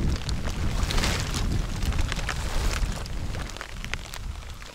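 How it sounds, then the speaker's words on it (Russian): Strong, gusty wind with rain buffets the microphone on a November fishing outing, a continuous loud roar with rough surges, with no voices. "Вот опять дождь, ветер,"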